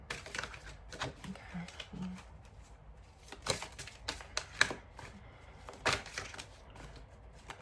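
A deck of tarot cards is shuffled by hand, making soft irregular riffles and papery slaps close by, with some quiet sounds in between.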